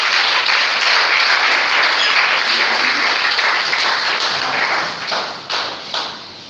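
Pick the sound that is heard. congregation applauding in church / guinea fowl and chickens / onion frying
congregation applauding in church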